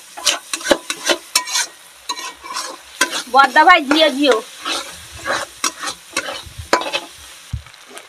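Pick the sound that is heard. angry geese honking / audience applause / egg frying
egg frying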